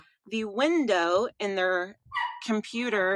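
A dog barks and yips close by in a house while a person keeps talking over it, the barks blending in and out of the steady narration.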